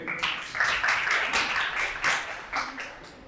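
An audience in a lecture hall claps in a brief burst of applause, many hands at once, loud and close, tapering off near the end.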